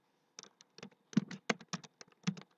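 Keys on a computer keyboard being tapped in a quick irregular burst of about a dozen light clicks, close and quiet in an otherwise silent room, as an Excel keyboard shortcut is entered.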